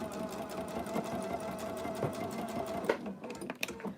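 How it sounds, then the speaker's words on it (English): Sewing machine stitching a small fabric face mask for a child, with back stitching to reinforce the seam; a steady close whirring hum runs throughout, pausing briefly near the end with a few clicks. "When you start sewing, this is definitely where you need to do some back stitching to make that very, very strong"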